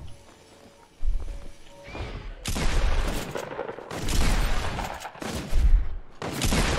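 Loud bursts of rapid gunfire in Fortnite come in several waves, with sharp cracks and short pauses between volleys.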